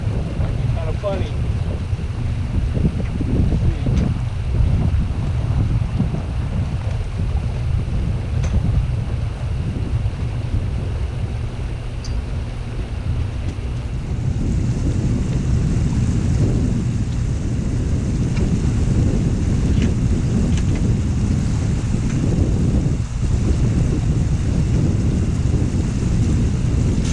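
Wind gusts and buffets outdoors at an overnight Jeep camp, a loud, steady rumbling roar across the microphone that swells stronger partway through and never lets up.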